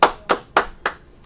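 A congregation at a religious gathering claps hands, four sharp, evenly spaced claps in quick succession, loud and close, with no talking.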